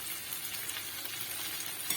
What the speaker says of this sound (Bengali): এখন আমি দিয়ে দিলাম ভেজে রাখা বেগুনগুলো।